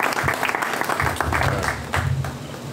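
A church congregation applauds together, dense sustained clapping filling the room with crowd noise and a few voices underneath.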